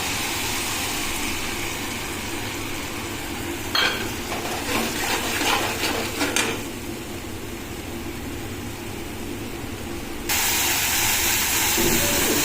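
Spice paste goes into a hot pan of softening tomatoes and hisses steadily up close, with a cluster of clattering utensil knocks partway through and the sizzle swelling louder toward the end, with no talking.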